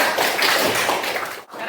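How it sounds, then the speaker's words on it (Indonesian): Short burst of applause from a group of students in a classroom, close and fairly loud, dense clapping that stops abruptly near the end. "tepuk tangan lagi sekali untuk kelompok"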